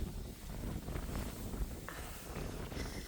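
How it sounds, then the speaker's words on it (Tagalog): Gusty wind buffets the microphone with a continuous rumbling roar, nearby and fairly loud, with no voices, outdoors at a house in Melbourne. "Ay, ang hangin pala rito."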